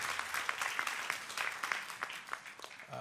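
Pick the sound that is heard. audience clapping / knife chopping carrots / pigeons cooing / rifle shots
audience clapping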